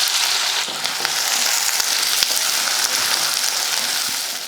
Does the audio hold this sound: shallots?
yes